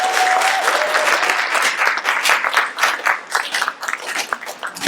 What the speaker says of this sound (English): Round of applause for Mike,